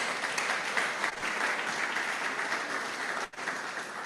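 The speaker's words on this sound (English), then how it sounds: "A round of applause for her again." An audience at a corporate governance conference in Nigeria applauds a speaker with steady, dense clapping that fills the room for several seconds, with a brief dip near the end.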